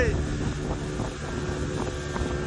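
Strong wind blows across a sea beach at Parki Char, Chattogram, beside rough surf, roaring as a loud continuous rush buffeting the microphone with no break.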